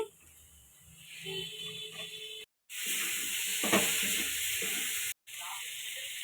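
Potatoes and cauliflower sauté with spices in a pan, giving off a steady, close sizzling hiss that cuts out briefly twice.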